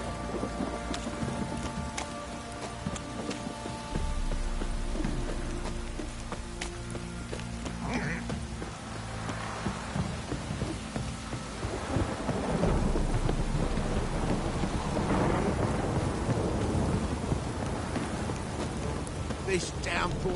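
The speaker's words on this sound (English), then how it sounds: "This downpour's a bastard" A heavy downpour with thunder in the video game Witcher 3 on PS5 keeps up a steady roar of rain on surfaces, with rumbling thunder swelling and intensifying partway through, continuous and loud.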